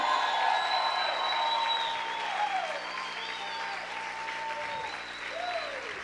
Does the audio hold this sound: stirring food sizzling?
no